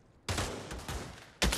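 Gunfire in the VR shooter Pavlov VR: a dense burst of rapid shots fires near and loud after a brief quiet, followed by a second sharp volley.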